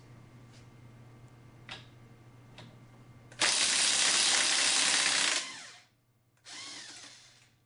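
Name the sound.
impact wrench removing motorcycle swing arm pivot bolt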